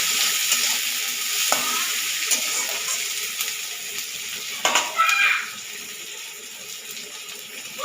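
Garlic, chopped onion and green chilli frying lightly in a pan, a steady close sizzling hiss with a few soft utensil taps and a brief rattle partway through.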